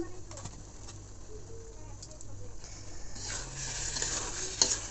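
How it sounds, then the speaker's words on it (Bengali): Rice, potatoes and chilies for khichuri stir-fried in oil, with quiet sizzling and soft scraping of a spoon against the pot, fairly faint and close. "ভালো করে কষিয়ে নিচ্ছি"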